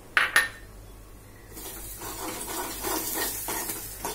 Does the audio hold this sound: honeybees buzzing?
no